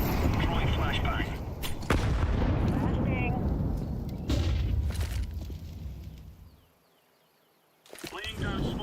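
A flashbang grenade detonates in Counter-Strike 2 amid loud, busy gameplay: several sharp broadband blasts and gunfire, then the sound drops out almost to silence for about a second before the game audio returns.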